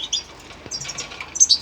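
Caged greenfinches fluttering their wings while feeding, quick soft flaps close by with a few faint chirps mixed in.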